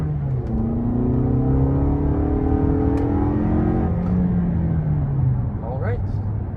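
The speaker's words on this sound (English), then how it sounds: "Okay, listen to the engine." A 2022 Lexus NX with a four-cylinder engine accelerates, heard from inside the cabin as a steady, rising engine drone with a faint whir, mixed with some background voice.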